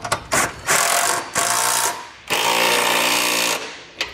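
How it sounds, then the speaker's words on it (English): Power tool or impact ratchet snugging down bolts for a Curt trailer hitch receiver on a 2017 Chevrolet, several loud buzzing mechanical bursts of varying length with short pauses between, close up. "And now we can go ahead and snug down all of our hardware."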